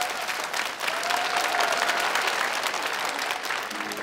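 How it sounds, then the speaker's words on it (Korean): An audience claps at an outdoor village festival concert in Hanwon-ri, Jeju, a steady wash of applause at moderate distance that fades slightly toward the end. "박수 부탁드립니다."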